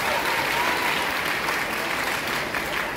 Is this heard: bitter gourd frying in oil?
no